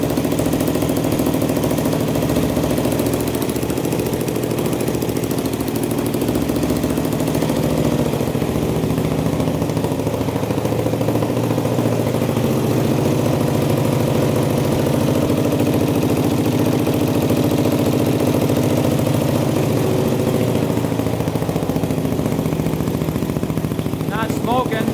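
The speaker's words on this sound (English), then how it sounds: "Idling great though." A Yamaha YFZ450 quad bike engine idles steadily and loudly throughout, a continuous rough mechanical drone with no pauses.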